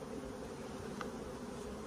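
Bees from a backyard beehive hum steadily in a low, even buzz that holds for about two seconds, faint and continuous with no voices.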